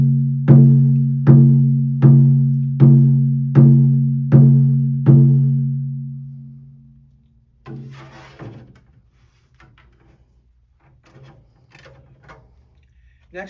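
Elk hide drum with a full wrap in the harmonic shamanic style, struck seven times at an even pace, each deep resonant boom swelling and then fading. A long ring-out follows, with faint scattered rustles and soft handling sounds.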